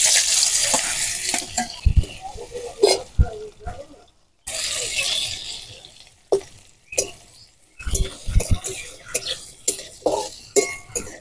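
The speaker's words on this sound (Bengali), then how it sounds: "এখানে আলু কটা হালকা করে ভেজে নেব।" Potatoes fry in mustard oil in a hot wok, loud and close, with a bright hissing sizzle broken by clattering stirs and a short silent gap. Someone coughs or speaks now and then.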